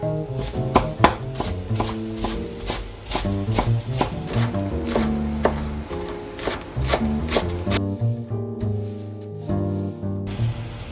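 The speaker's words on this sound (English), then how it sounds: "And we try to chop it as fine as possible." Rapid, steady knife chops on a cutting board as herbs are minced very finely for Lebanese tabbouleh, close and loud, the rhythmic tapping continuing for about eleven seconds with no talk.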